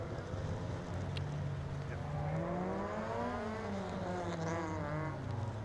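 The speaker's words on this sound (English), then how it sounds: "Great sound from Aiden Byrne Celica as he comes down to take up pole position." A Toyota Celica race car at Mondello Park drones past with a steady engine note that climbs and sweeps in pitch, moderately loud with wind noise.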